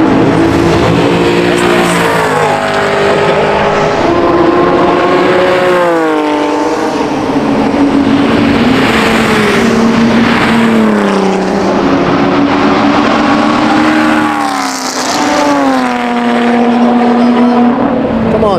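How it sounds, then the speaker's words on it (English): A Ford Mustang races around the circuit on an open track day at Kuwait Motor Town, its engine loud and close, revving up and down through repeated gear changes and holding a sustained roar. "that's the Mustang."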